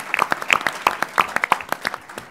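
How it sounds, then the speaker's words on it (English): Scattered applause at a Governor's announcement event, with a few distinct hand claps standing out over a thin background of clapping throughout. "Let's give the chairman a big round of applause and thank him for his leadership."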